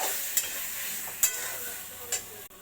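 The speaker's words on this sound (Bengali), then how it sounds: "গাটি কচুগুলো দিয়ে ভালো করে কষিয়ে নেব" Taro pieces fry with spices in oil, a steady close sizzle broken by three evenly spaced stirring scrapes, no talking.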